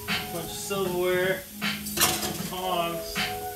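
Silverware being handled and put away during household cleanup clinks and rattles up close in several short bursts of metallic jingling, with a pause between them.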